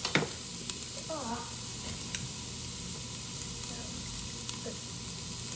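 Carrot ginger soup stirred in a pot, a soft steady simmer and sizzle with occasional light scrapes and taps of the spoon, with faint voices in the background.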